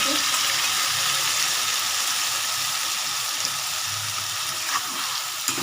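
Spice paste frying in hot oil gives a loud, steady, broadband sizzle that continues unbroken, with faint clinks now and then.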